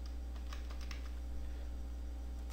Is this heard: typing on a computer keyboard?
yes